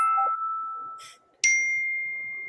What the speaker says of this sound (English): oh, that's your phone?